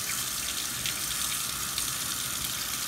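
Hot water runs steadily from a kitchen tap in a continuous close hiss and splash, heard alone with no voices.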